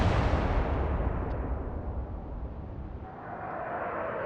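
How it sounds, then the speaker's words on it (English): A naval gunfire salvo in the warship game Atlantic Fleet, a heavy booming blast that rolls off into a long low rumble fading over several seconds, with no talking. "Fire away."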